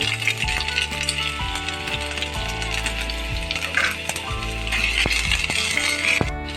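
Ginger and garlic sauté in hot coconut oil for a chicken parts roast, a steady sizzle broken by repeated metallic clinks of a spoon against the pan.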